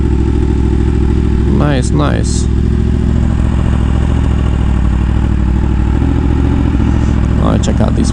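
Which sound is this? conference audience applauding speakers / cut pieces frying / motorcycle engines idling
motorcycle engines idling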